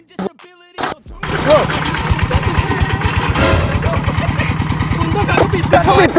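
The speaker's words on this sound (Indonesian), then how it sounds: "Ini kita nyingkal pakai knalpot CJDW seri standarnya." Motorcycle with a standard-series CJDW exhaust starts after a few short bursts, then idles and revs with a steady low pulsing throb close by, fairly loud throughout.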